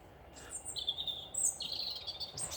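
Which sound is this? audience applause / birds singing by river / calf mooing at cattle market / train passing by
birds singing by river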